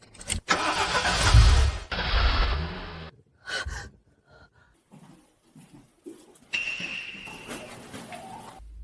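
A car engine cranks and catches, a loud close start with revving, then quieter mechanical clatter and a short breath before the engine hums again.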